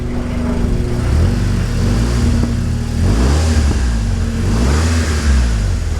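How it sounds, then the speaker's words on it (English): A car engine rumbles close by at idle and is revved twice, its pitch climbing and falling back each time, with no talk over it. "Let's give it a little bit of a rev."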